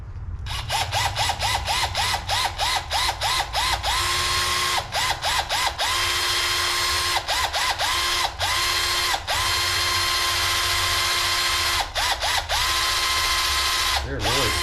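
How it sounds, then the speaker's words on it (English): A power drill bores out old glue from inside a graphite golf shaft tip, running in a steady loud whir with repeated short stops and restarts throughout. "you're going to drill out the old glue that's in there"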